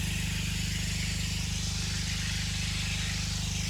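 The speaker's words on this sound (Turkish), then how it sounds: "Motorun sesi de bayağı geliyor." An engine runs steadily beside an irrigation tank during sprinkler watering of a corn field, a constant even chugging hum with a fast regular pulse and a broad hiss above it, loud and unchanging throughout.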